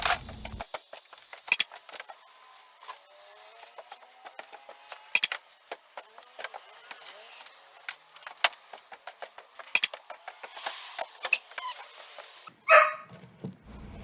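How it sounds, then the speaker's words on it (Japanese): A lonely dog downstairs in an old Japanese house whimpers and yelps in scattered bursts, heard at a distance amid light clattering and rustling from tidying nearby. "ワンちゃんが1階で泣いています。"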